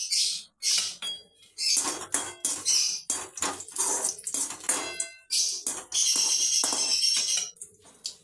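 Dry fruits fry in a pan as a spoon scrapes and clatters against the metal in quick, irregular strokes, close and fairly loud.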